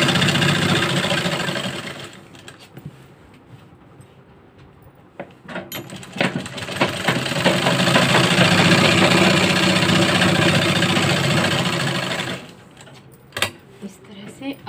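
An electric sewing machine stitches salwar fabric in bursts: a short run, a pause with someone talking, then a long steady whirring run before it stops, with a few clicks and taps afterward.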